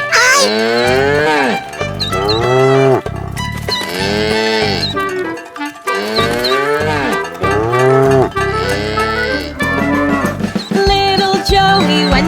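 Cows low on a farm in a cartoon nursery rhyme, a run of loud, long moos one after another with short gaps, clear and close.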